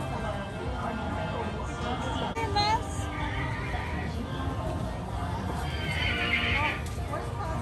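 On a LEGOLAND California joust ride, recorded horse neighs and whinnies ring out over steady clip-clop hoofbeats, with crowd chatter and a spoken announcement in the background.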